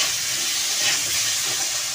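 Hilsa fish rubbed with turmeric frying in a pan, a steady dense sizzle of hot oil running continuously at close range, with no voices.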